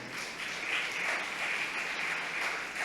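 Sustained applause from a church congregation at a Sunday service fills the room, steady and fairly even throughout.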